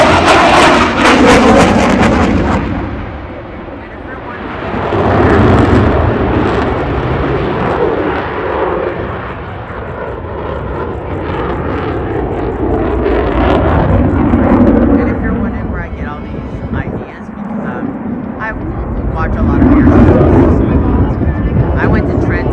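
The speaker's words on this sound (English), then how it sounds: "Let's go to the cockpit of the CF-18 Hornet as he comes right over." A Canadian Forces CF-18 Hornet fighter jet roars low overhead at an air show, a loud, sustained engine rumble that surges and fades as it passes, with its sweeping roar dominating throughout.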